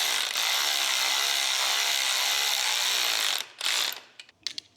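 A hand ratchet clicks rapidly and continuously while tightening bolts during a Vintage Air conditioning install on a car's firewall and engine bay, loud and close, then stops, followed by a few scattered clanks.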